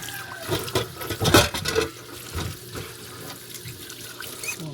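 Food being rinsed by hand under a running kitchen tap, a steady close splashing gush into the sink that swells and eases as the pieces are turned under the flow, with no talking.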